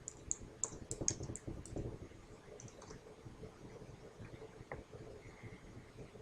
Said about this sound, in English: type the date 1/31/2016 and then press your Tab key